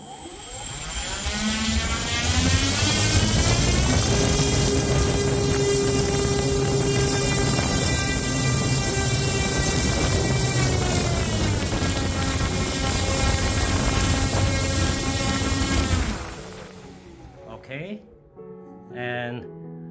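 An electric motor spins a Freewing SBD-5 Dauntless propeller on a Mayatech thrust tester, giving a loud, steady, close whine with a strong airy roar for about sixteen seconds before it suddenly cuts out, leaving a few faint scattered sounds.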